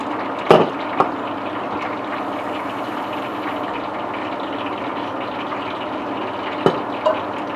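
Steady liquid rushing and splashing into a pot, continuous throughout with a couple of brief clinks, no voices.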